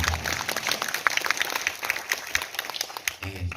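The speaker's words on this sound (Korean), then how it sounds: "큰 박수 한번 부탁드립니다" An audience at the Seoul Pride 2022 opening ceremony applauds. The clapping is dense and fairly close, holds for about three seconds, then tapers as a voice begins to speak.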